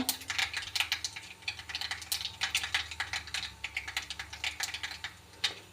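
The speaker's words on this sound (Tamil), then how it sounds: "எனக்கு தேவையான எண்ணெய் ஊற்றிக்கிட்டேன் கடுகு போட்டுக்கிட்டேன்ப்பா" Mustard seeds splutter in hot oil at the start of a carrot stir-fry, giving off a rapid, irregular run of sharp pops and crackles that stays close and fairly soft.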